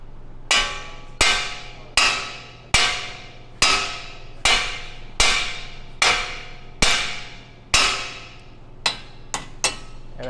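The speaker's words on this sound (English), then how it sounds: "You're just gonna pull it out and then tap it with a hammer." Hammer tapping a tie rod end loose while installing a Hoss 3.0 steering kit on a Bronco: about a dozen sharp metallic strikes at a steady pace, close and distinct, the last few lighter and quicker.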